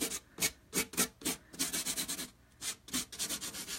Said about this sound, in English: This is actually from my sanding tool.